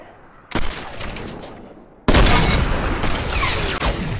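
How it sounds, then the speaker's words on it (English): Gunfire rings out in Fortnite Battle Royale, with a loud shot followed by a second, even louder blast and then rapid continuing shots that echo close and harsh. "I just shot an invisible bullet."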